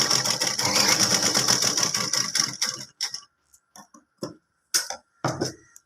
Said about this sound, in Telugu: స్టాప్ చేసి రిపీట్ స్టిచ్ వేస్తాం. ఇలా రిపీట్ స్టిచ్ వేయటం వల్ల క్లాత్ స్ట్రాంగ్ అవుతుంది.